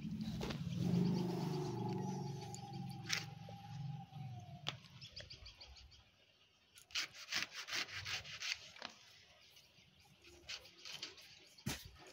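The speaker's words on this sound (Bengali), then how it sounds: "আমি এইভাবে লেবুটা কাটি," A knife cuts through a large pomelo (bataabi lemon) picked from a backyard tree: close rough rubbing and sawing strokes of blade on thick rind, followed by sharper scattered snips and taps, with faint birds in the background.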